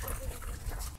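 A dog whimpers and yelps in short, strained bursts close by while being roughed up by aggressive little dogs at a park.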